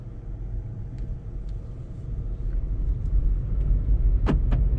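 Heard from inside a VW Polo car as it pulls off and drives, a low, steady road and engine rumble builds gradually. A couple of brief higher clicks come near the end, and no one speaks.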